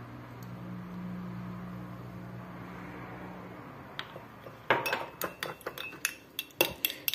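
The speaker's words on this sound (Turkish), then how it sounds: "Hızlı bir şekilde tahta kaşık veya spatula ile iyice karıştırın" Thick homemade cream is stirred briskly with a wooden spoon or spatula in a bowl. Quiet room hum comes first, then a run of quick, close clinks and taps from the stirring.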